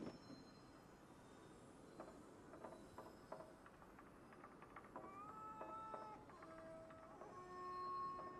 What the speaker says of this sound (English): Oh my god, these cats are so smug.